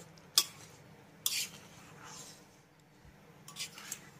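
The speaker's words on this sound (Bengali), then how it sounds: "ভালো করে একবার নেড়েচেড়ে মিশিয়ে নেব" Cooked masoor lentils being stirred with egg bhurji in a pan, soft wet squishing with a few sharp scrapes and clinks of a spoon against metal, quiet and close with no one speaking.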